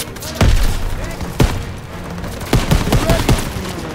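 World War II battlefield gunfire from the Call of Duty WWII game, with heavy rifle and machine-gun shots cracking in uneven bursts, loud and close, amid shouted soldier voices.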